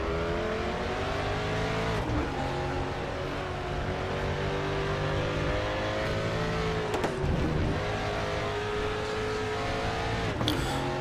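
A Ford Mustang race car from the 1992 DTM season laps the Chang circuit at Buriram in the Raceroom racing game. Its loud, close engine drones steadily and drops in pitch under braking into corners, then rises again with occasional tire squeal.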